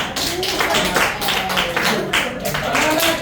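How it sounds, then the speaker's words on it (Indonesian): A classroom of students claps for the fourth group after its presentation, a dense, steady patter of many hands filling the room, with voices faintly underneath. "Tepuk tangan untuk kelompok 4"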